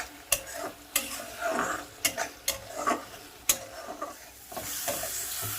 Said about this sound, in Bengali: আমি এটা অল্প অল্প গরম জল দিয়ে কষিয়ে নেব